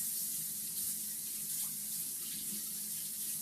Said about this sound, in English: We're just rinsing some carrots off.